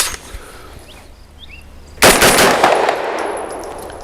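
An Extar EP9 Gen 2 pistol fed from a Glock magazine fires a rapid string of loud, close shots that start abruptly midway and blur into a dense burst with ringing decay.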